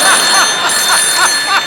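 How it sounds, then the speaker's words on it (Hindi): A phone rings in short repeated electronic trills, loud and close, with a steady high tone running underneath. "संतोष को फोन लगाया जाए प्लीज"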